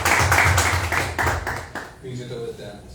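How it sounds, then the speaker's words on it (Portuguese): A church congregation claps during a morning service, with a short burst of rhythmic hand claps over voices that quickly gives way to speech and murmuring. "Aplaude o Senhor nessa manhã"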